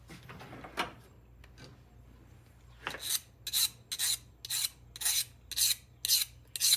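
Knife blade sharpened on a Norton stone, a run of about eight regular rasping strokes close up, each a short bright scrape, preceded by a few softer scattered scrapes and quieter handling.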